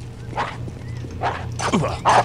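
Several short barks from a dog in the video game Postal come in uneven bursts over a steady low hum, growing louder toward the end.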